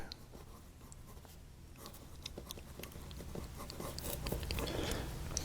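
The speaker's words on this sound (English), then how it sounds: "hopefully you heard it when it was writing here" Scratchy nib strokes from a Montblanc 320 fountain pen with a medium nib writing on paper, a close, soft, continuous scratching with brief pauses, growing slightly louder toward the end.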